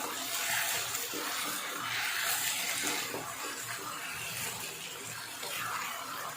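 A mixed liquid is poured into a pan while cooking ginger chicken, producing a steady, close, splashy gush that runs unbroken and fairly loud, with no one speaking.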